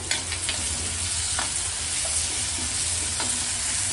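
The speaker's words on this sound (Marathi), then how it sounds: "मीडियम फ्लेमवरच आपल्याला टोमॅटो देखील परतून घ्यायचा आहे।" Tomatoes sauté over a medium flame, giving a steady, close sizzle that fills the whole clip, with a few soft stirring scrapes and no talking.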